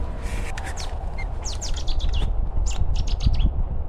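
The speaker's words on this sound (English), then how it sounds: "there's a Cetis warbler, did you hear that?" Loud, rapid bursts of sharp chirping song from a Cetti's warbler ring out close by in quick phrases over a low rumbling outdoor background.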